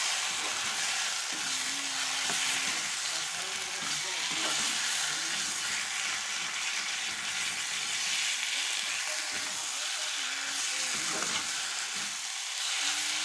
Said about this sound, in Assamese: আৰু এতিয়া মই ইয়াত দি দিম এইখিনি অলপ ফ্ৰাই কৰি লোৱা মটৰ আৰু আলুখিনি।